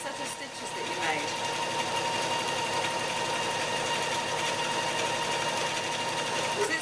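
A domestic sewing machine stitches a handbag, its motor running in a steady, close whirring hum with a faint mechanical clatter, while someone talks over it.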